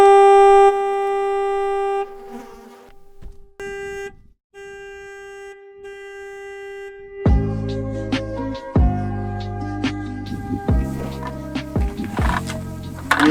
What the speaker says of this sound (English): I'm gonna give a little honk